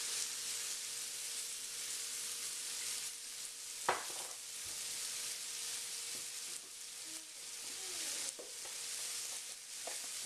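Handmade pasta stirred in a pan with olive oil, a steady soft sizzle running throughout, broken by a few sharp clinks and scrapes of the utensil against the pan.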